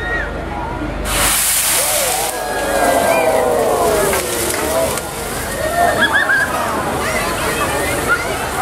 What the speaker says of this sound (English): how devastating a small cup of water on top of oil that's on fire could do to your house